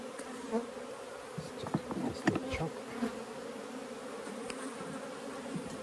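Honeybees buzzing around an opened hive during splits and nuc making, a steady close hum with individual bees zipping past the listener, soft and constant with no talking.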